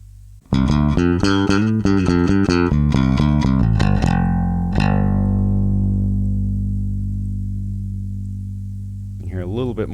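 A bass guitar played through a Daring Audio Phat Beam compressor picks out a quick run of loud notes, then one low note rings out for several seconds, sustaining smoothly and fading only slightly before a brief final pluck.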